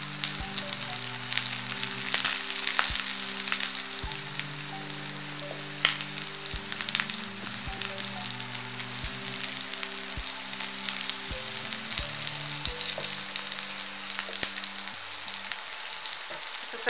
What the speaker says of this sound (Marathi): तेलामध्ये चांगलं व्यवस्थित भाजून घ्यायचं